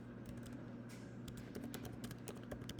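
Computer keyboard typing in steady, close bursts of key taps while a search term is entered, with a low hum running beneath.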